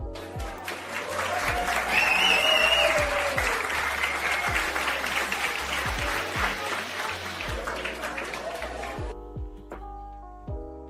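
A crowd at an outdoor mountaintop yoga jam gives loud, sustained clapping and cheering for about nine seconds before cutting off, followed by a few quiet tones.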